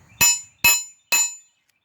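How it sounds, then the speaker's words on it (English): Three sharp metallic hammer strikes from a 2-pound hammer forging a knife, evenly spaced, each ringing briefly before fading, close by with quiet in between. "that's about a 2-pound hammer right there"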